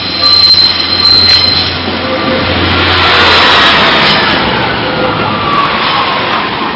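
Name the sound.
Class 142 train passing Lincoln Central level crossing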